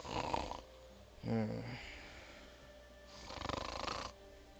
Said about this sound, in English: I heard the first snore.